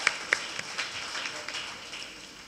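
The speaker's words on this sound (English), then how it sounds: "So please give him a round of applause" A small audience at a Pakistan–Russia economic cooperation event gives a short, fairly light round of applause, scattered claps close by over a soft wash of clapping, with a voice briefly heard.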